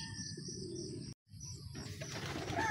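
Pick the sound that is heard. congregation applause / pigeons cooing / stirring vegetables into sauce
pigeons cooing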